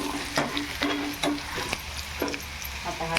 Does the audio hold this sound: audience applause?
no